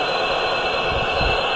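High-speed train in a Roblox Indian railway game, a steady droning engine and rail hum with a faint rhythmic low thump, continuous and close, no voices.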